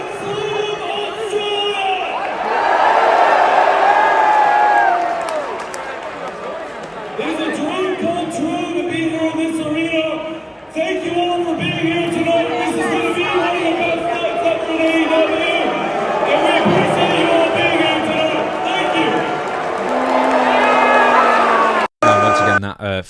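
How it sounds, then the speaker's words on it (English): Wrestling arena crowd at an AEW event in Australia booing Tony Khan as he walks out, a loud, sustained mass of jeers and crowd noise with voices mixed in throughout. "Quite a lot of booing, mixed but audible booing."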